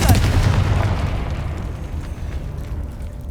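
A Confringo spell goes off in Hogwarts Legacy with a loud booming blast right at the start. A rumbling tail follows and slowly fades over the next few seconds.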